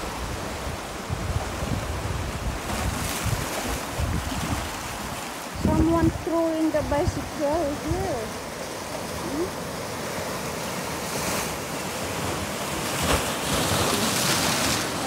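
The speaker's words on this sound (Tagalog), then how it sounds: "Ganda pagmasdan yung hampas ng" Ocean waves crashing against large rocks along a shore, a constant loud wash of surf with surges, while a person talks briefly in the middle.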